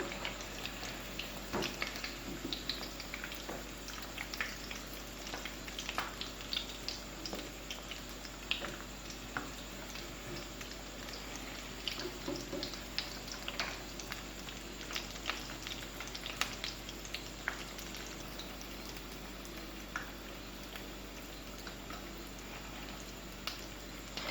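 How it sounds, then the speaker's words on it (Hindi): Crispy chicken balls deep-frying in hot oil, a dense continuous sizzle and crackle with scattered pops, steady and close for the whole stretch, no voices. "अब हम बाकी के बॉल्स को भी इसी तरह से फ्राई कर लेंगे"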